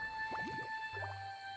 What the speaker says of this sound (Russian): Где булькает, там не идти.